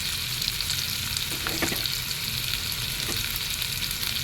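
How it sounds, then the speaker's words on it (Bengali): Chopped ginger, garlic and green chili frying in oil in a pan for a Bengali eggplant bharta, a steady close hiss with a few brief stir clinks partway through, no talking. "এবার আমি লাল লাল করে ভেজে নেব"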